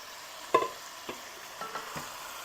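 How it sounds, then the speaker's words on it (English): Spices and herbs are stirred into sizzling curry chicken in a pan, with a steady low sizzle under a few distinct spoon scrapes and knocks. "let's get that stirred in there real good"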